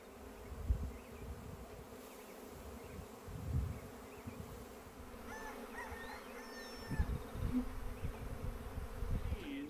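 Honey bees swarming on a farm make a steady, dense buzz that swells and fades as insects pass close by. Faint bird calls sound in the background and no one speaks.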